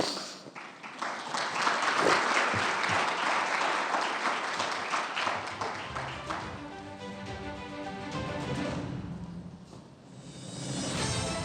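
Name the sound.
audience applause for conference panelists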